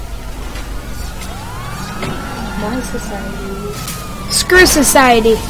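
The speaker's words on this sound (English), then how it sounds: "Whoop whoop, that's the sound of the police!" A police siren wails in the GTA V video game, its rising and falling tone sitting behind someone talking excitedly, with a louder burst of game noise near the end.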